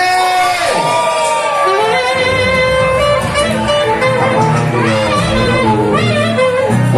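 Loud crowd at a live band show cheers, whoops and shouts, with children's voices mixed in, as a woman is called up to sing; the noise carries steadily throughout.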